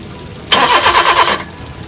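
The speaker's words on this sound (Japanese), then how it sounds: "スターターも正常に回っているようです。" A car starter cranks for about a second with a rhythmic churning whir, but the engine never catches because of a fuel pump system fault. The cranking stops abruptly into quiet.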